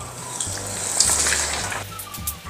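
Breaded pieces, dipped in egg, flour mixture and breadcrumbs, frying in hot oil with a steady close sizzle and crackle, alone without talk.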